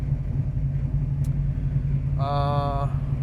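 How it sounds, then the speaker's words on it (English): A 1971 Chevrolet Camaro engine idles with a low, steady hum up close, just after starting, with a brief tonal beep near the end. "We just started the car though"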